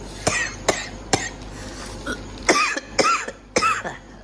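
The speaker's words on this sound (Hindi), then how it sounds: "खांसी हो गई भाई" Someone coughs repeatedly, a string of sharp, close coughs in quick succession, with a throat-clearing quality and a low background hum.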